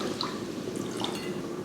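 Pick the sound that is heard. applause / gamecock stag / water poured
water poured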